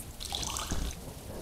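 Water being poured into a bowl in the video game There is no game, a short splashing trickle with a few drips, fairly soft and heard alone.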